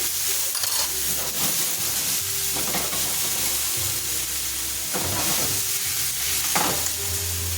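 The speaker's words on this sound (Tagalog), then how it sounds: "I'm gonna put the pork stock." Pork stock poured into a pan of sauteing pork, bitter melon, asparagus and mixed vegetables, producing a loud continuous sizzle and hiss with occasional stirring scrapes, close up.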